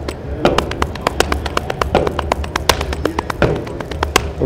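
A drum kit plays a dense pattern of quick sharp hits over a triple pulse, with accents grouped irregularly against the beat, close and fairly loud with no talking.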